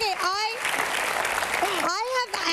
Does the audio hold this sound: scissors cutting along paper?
no